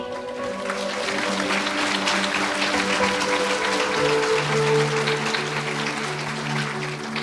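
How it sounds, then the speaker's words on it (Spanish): A church congregation claps steadily and warmly, sustained applause filling the room throughout without pause. "Fuerte aplausos, iglesia."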